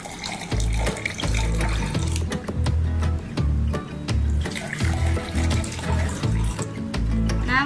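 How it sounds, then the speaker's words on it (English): Water is poured into three glasses for a capillary-action experiment, giving a steady running, splashing wash over a strong rhythmic low-pitched pulsing background throughout. "You should pour some water into 3 glasses."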